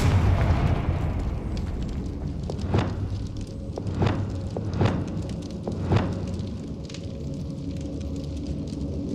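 In Hogwarts Legacy, the fiery Confringo spell fires off a series of booming bursts, four or five sharp blasts spaced about a second apart over a dense, rumbling background.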